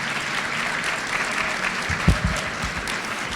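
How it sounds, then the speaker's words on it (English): An audience at a scholarship awards ceremony applauds in a steady, dense wash of clapping that holds at an even level throughout, with a single louder thump partway through. "She deserves all the applause"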